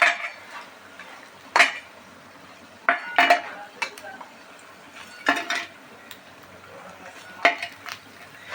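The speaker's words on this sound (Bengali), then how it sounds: "এবার আমি একটা একটা করে তুলে নিচ্ছি" Fried pakoras lifted one at a time from a hot pan, giving a few scattered clinks and scrapes of a utensil against metal cookware, fairly close and separated by quiet gaps.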